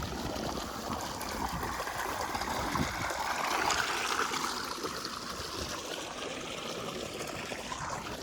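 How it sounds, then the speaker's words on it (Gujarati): Cold well water gushes from a motor pump onto a grass field outdoors, a steady close rushing and gurgling flow with no breaks. "બહુ મસ્ત એવું પાણી આવે કૂવાનું ઠંડુ એમ."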